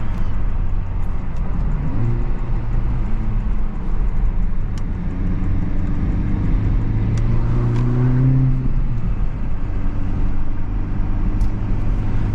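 A Honda Civic Type R FL5 cruises on a short drive, its engine droning steadily from inside the cabin with road roar and a few gentle rises in pitch as it accelerates.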